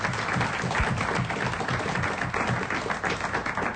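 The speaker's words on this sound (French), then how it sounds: "on applaudit Pierre Lagrange, un spécialiste" A TV studio audience applauds a guest, Pierre Lagrange, with a thick, even patter of many hands clapping together, held at steady strength for several seconds.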